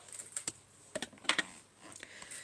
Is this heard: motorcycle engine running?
no